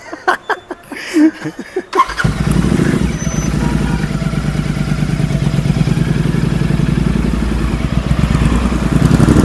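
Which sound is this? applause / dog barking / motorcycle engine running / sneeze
motorcycle engine running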